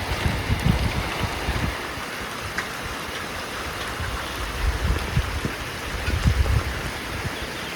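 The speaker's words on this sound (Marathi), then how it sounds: "चांगलं पाणी पडायला लागले." Heavy rain pours steadily onto a shed in a dense, continuous patter and splash with deeper thumps of water hitting the surface, close and unbroken throughout with no talking.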